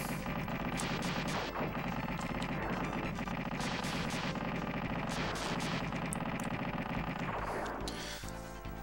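Rapid gunfire from shooting enemies in Super Earth Defense Force on SNES, a loud, dense stream of shots layered over busy game music that runs almost without a break, thinning out near the end.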